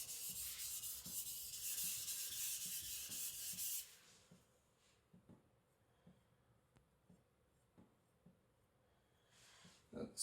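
A custom Chinese cleaver in 52100 steel drawn across a natural whetstone, giving steady rough scraping strokes for about four seconds, then faint, sparse rhythmic swipes as the strokes lighten.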